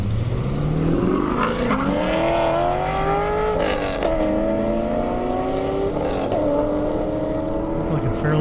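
A 1,000-horsepower Corvette Z06 launches hard at an airstrip drag race, its engine roaring loud and close with rising, shifting revs that sweep up through several gears, while a voice talks over it.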